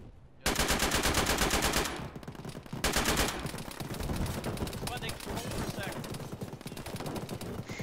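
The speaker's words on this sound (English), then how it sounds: "Oh, I'm shooting EI north." Rapid bursts of automatic gunfire in an Arma military simulation, loud and dense, with a sustained volley, a brief lull, then more sustained firing under intermittent radio chatter.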